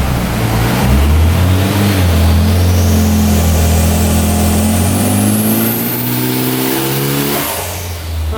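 Mitsubishi Evo 8 engine on a dyno pull, revving in a long, loud, rising sweep as rpm climbs, then easing off near the end, heard up close without speech.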